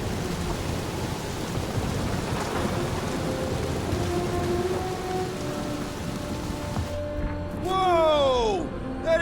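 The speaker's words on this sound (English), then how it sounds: "That is some really crazy lightning out there!" A thunderstorm with lightning in the video game Marvel's Guardians of the Galaxy, with steady heavy rain hissing and low thunder rumbling throughout, and a brief swell of rising whistling tones near the end.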